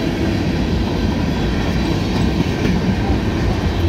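A short CSX freight train, M331, with small gondolas rolling past close by, a loud continuous low rumble and steady wheel clatter with no voices.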